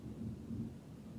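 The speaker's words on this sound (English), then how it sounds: "it's thundering and raining a lot" Low thunder rumbling during a heavy rainstorm, a deep rolling murmur swelling briefly and fading over about a second, fairly faint and heard alone.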